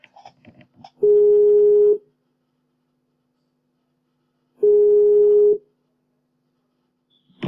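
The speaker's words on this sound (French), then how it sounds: "tu raccroches et on s'appelle avec Flo" Phone call ringback tone, two steady, loud, one-second beeps about three and a half seconds apart, with a brief bit of faint noise before and at the end.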